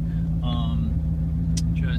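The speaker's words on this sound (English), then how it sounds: "You can hear the rattling of the leak in the cat." A 1992 Mercedes 500SL idles with an exhaust leak at the catalytic converter. A steady low engine rumble runs throughout, with a faint rattly edge and a brief voice partway through.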